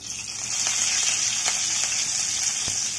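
Curry leaves crackle and sizzle in hot oil with mustard seeds and turmeric for a drumstick fry, a steady loud frying hiss with scattered sharp pops, close and with no voices.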